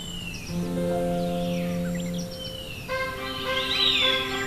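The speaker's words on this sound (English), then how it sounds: "You can hear birds sing everywhere." Birds sing in a mountain forest habitat at Dan Ta, with high chirps and warbling calls over a steady, sustained tonal background.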